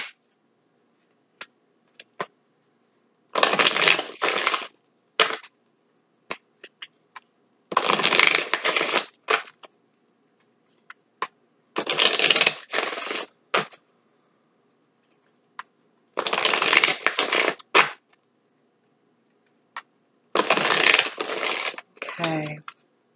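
Tarot cards are shuffled in five separate bursts of crisp riffling and slapping, close and clear, with small taps and flicks between them as cards are handled and drawn.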